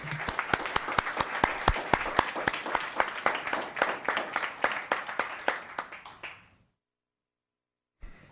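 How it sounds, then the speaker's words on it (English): An audience at a town council meeting applauds with dense, steady clapping that fades out over several seconds, then falls silent. "Another round of applause for Karen."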